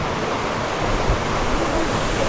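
A waterfall in Seoraksan National Park roars as a constant broadband wash of falling water, steady and moderately close with no clear voices over it.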